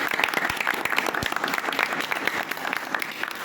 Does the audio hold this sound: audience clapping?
yes